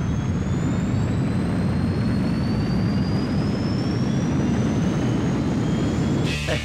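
A spacecraft lifts off for the moon in the PS2 game Jackie Chan Adventures, a loud continuous jet-like engine roar with a deep rumble and a faint rising whine, steady throughout.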